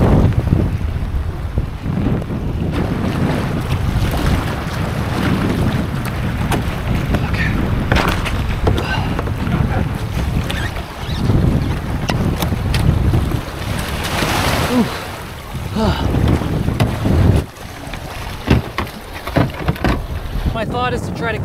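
Strong wind buffets the microphone while kayaking on open water, a loud, continuous roar with gusty swells and occasional knocks and water splashes from the boat.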